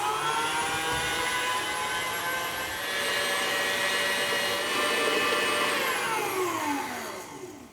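Microwave heating a bowl of cold custard for pastry filling, a steady close hum with whirring tones that runs evenly for several seconds before pitching down as the oven stops.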